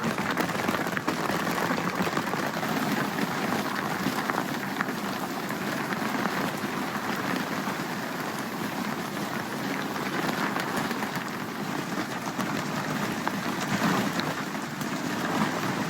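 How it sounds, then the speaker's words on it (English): A sudden heavy rain squall pours down steadily on a sailboat, a dense, continuous hiss and drumming of drops on surfaces, loud and unbroken throughout with no voices. "that's some heavy raining that just started."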